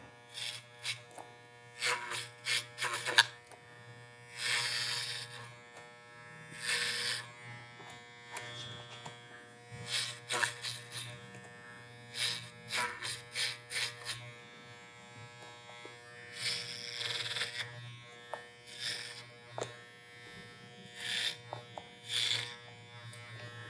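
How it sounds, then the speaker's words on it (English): An electric hair clipper cuts hair over a comb during a men's old-school pompadour haircut, buzzing in repeated short bursts with quiet gaps between passes. "Just working with the clipper over comb technique."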